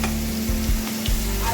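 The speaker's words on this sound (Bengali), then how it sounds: "এর মধ্যে আমি দিয়ে দেবো পেঁয়াজ বাটা" Onion paste hits hot mustard oil in a kadai, giving a loud, dense, continuous sizzle with a few low thumps from the spoon, and nothing else heard over it.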